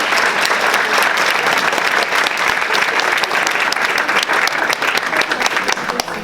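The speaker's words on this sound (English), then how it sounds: "let's give them all a round of applause" Sustained, loud applause from an audience at a Madison school board candidates forum, dense hand clapping filling the room throughout, with a few louder claps near the end and slight crowd murmur underneath.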